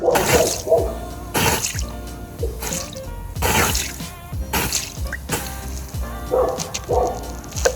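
Cold water splashes onto a red-hot stuck bolt, giving sharp bursts of sizzling hiss and spatter with drips between them, close by.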